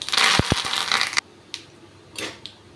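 Mustard seeds, urad dal and curry leaves hit hot oil with a loud crackling sizzle for about a second. Then come a few scattered pops and spits.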